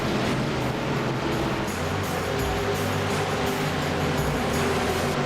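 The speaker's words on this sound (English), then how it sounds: "That's the roar of 43 engines on this beautiful night right" Forty-three stock car engines roaring together in an iRacing NASCAR Xfinity race, a dense, steady wall of engine drone with no talk over it.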